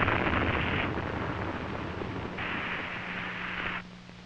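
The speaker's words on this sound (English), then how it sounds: "Witness this launch of a Titan II." Roaring, noise-like rumble of a Titan II missile destroyed during a failed launch, a steady distant wash with two brighter bursts before it drops off near the end.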